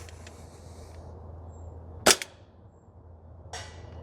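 Novritsch SSP28 airsoft gas pistol firing on an outdoor range: two sharp, snappy shots about a second and a half apart, the first louder and crisper, set against quiet background noise with no voices.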